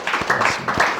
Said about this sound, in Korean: 우리도 오늘 주님께 기쁨과 감사의 박수로 한번 영광을 올려드렸으면 좋겠습니다